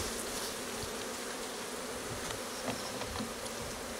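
Honey bees crawling over a full, capped hive super in a Spanish Layens hive, heard as a steady close insect hum and buzz with no talk.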